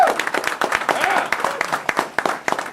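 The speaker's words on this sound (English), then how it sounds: "Round of applause." Audience applause at a charity closing ceremony fills the clip, many hands clapping together in a lively, sustained burst with a faint voice mixed in at the start.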